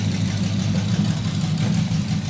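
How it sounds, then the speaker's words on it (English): A freshly built custom car engine fitted with exotic carburetors settles into a smooth, steady idle, a close, loud, even low rumble running throughout with no talk. "It lays right down to idle and just purrs smooth."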